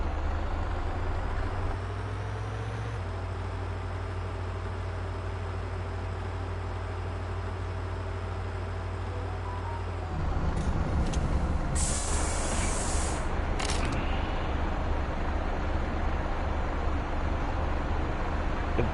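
Air brake on a bus in Bus Driver Simulator releasing over a steady idling diesel engine hum, with a sharp burst of hiss partway through before the engine note rises.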